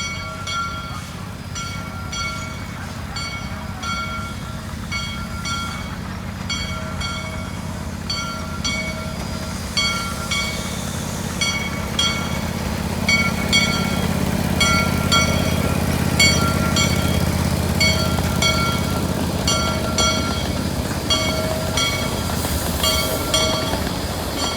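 Monon 96, a micro gauge steam train at the Hesston Steam Museum's steam and power show, pulls into the station with rhythmic clicking wheels and a rumble that swells as it nears, plus brief whistle-like tones and faint voices in the background.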